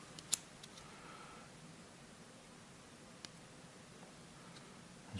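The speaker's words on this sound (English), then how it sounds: "So I'll just take my scissors and just very carefully just nip it off" Small scissors snip stubs off photoetch model parts: a couple of crisp, isolated clicks spaced seconds apart over quiet room hiss, close and faint.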